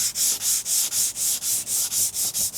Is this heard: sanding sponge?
yes